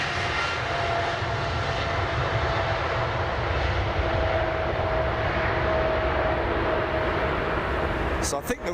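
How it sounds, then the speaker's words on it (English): Airliner taking off from Heathrow at reduced, derated thrust: a steady, loud engine roar that fills the whole stretch with a faint tonal whine inside it. "So I think the main reason for these derated departures, or half throttle departures as we call them, is purely down to the fact that the air is so thick"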